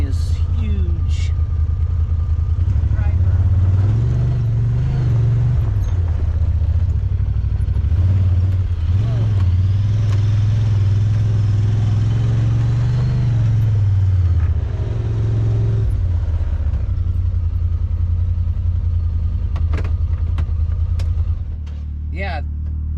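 A UTV engine drones steadily and loudly while driving through a desert canyon near old mines, its low rumble rising and falling with the throttle, with people talking over it at times.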